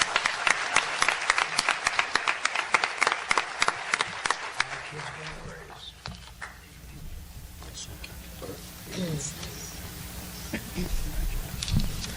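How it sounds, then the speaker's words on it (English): An audience applauds at a ceremony, dense clapping for the first several seconds, then thinning out to scattered claps and murmuring voices. "let's give a round of applause for these three fine individuals."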